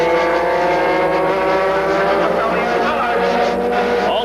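Racing karts at Adams Kart Track in 1989 scream past at around 90 mph into a sweeping right-hander, a loud, continuous high-pitched engine whine with shifting pitch; a commentator talks over the engines.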